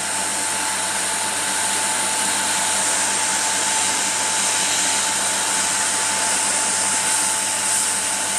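A hot air blower pushes heated air onto a thermoelectric plate fitted with a heat sink and fan, giving a loud, continuous whooshing roar with a faint steady whine that holds unchanged throughout, close up, with no voices.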